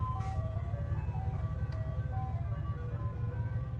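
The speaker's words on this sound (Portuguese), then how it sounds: "Que é um caminhão de sorvete." Ice cream truck playing its chiming tune from a distance, faint melodic notes drifting over a steady low vehicle rumble.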